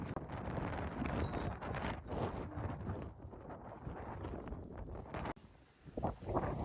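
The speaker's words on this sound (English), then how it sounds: "Any more fucking wind?" Strong wind buffets the microphone during a whiteout snowstorm on a ski slope, a loud continuous roar with gusting rushes and a brief drop near the end before surging again.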